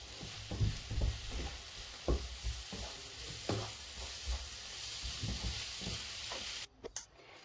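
Kofta cooking in a pan: a steady, close sizzling hiss with recurring soft scrapes and stirring knocks, with no voices.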